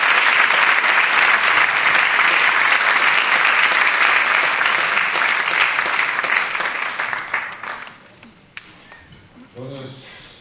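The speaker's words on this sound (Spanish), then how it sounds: "Dele un gran aplauso de bienvenida" A large audience claps loudly to welcome a speaker, holding a dense sustained applause for several seconds before it tapers off with a few last claps, and then a voice begins.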